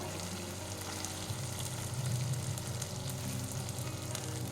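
Chicken posto simmering in a pan after a splash of spice-rinsing water goes in, giving a steady, moderate sizzle and bubbling with a slight swell midway, no voices.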